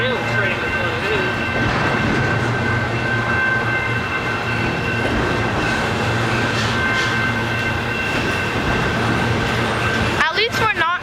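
A rail train rolls past loudly and close at Pitt Meadows on the Canadian Pacific line, a continuous heavy rumble with steady metallic whine and wheel clatter that cuts off near the end, with people talking over it.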